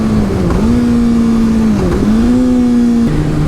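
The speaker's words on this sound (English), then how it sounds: "if I didn't rev match and I was banging down into gears one by one, okay, one by one, then this would happen" A motorcycle engine drones loudly while downshifting gear by gear without rev matching, its pitch dropping and jumping at each shift in an uneven sequence.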